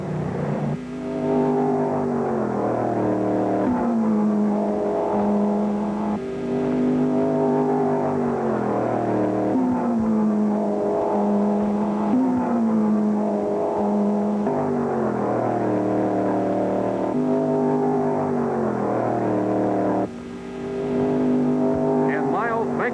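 1963 road racing cars, including an Elva Porsche, run at Road America during a 500-mile championship race, their engines droning steadily with rising and falling pitch as gears shift, a continuous loud roar under commentary.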